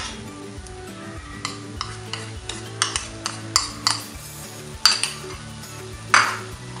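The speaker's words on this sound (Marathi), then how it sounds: "वाटण देखील संपूर्ण मसाल्यामध्ये एकजीव करून घ्यायचा आहे" Ground masala paste is stirred into masala frying with ginger-garlic paste: a soft continuous sizzle broken by a regular series of sharp spoon scrapes and clinks against the pan, growing a little louder toward the end.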